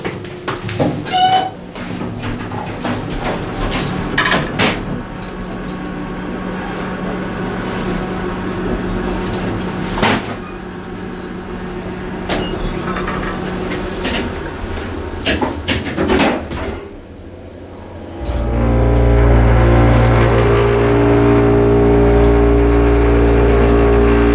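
A Schindler HT hydraulic elevator (modernized KONE) in a Duane Reade store on Broadway runs with a steady mechanical drone amid clunks and rattles, then a louder, deeper low hum takes over near the end as the motor pumps.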